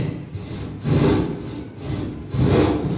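A hand saw cutting through a ceiling board for a downlight, in slow rhythmic strokes, each pull swelling louder than the push, close up with no talking.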